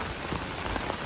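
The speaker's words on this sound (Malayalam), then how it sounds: "ഇങ്ങനെ നിർത്താതെ പെയ്തുകൊണ്ടിരിക്കുകയാണ് മഴ" Steady, even rain falls on Mall Road in Nainital, a dense, continuous patter on wet surfaces with no voices.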